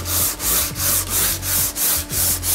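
Sanding cloth is rubbed back and forth across a painted wooden surface to wear through to the layer beneath, making a loud, rhythmic scratchy swish in about seven even strokes, close up with no talking.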